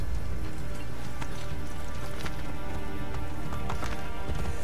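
A horse gallops in Assassin's Creed Brotherhood, its hooves thudding in a quick, steady rhythm under dense game ambience, with no voice over the sound.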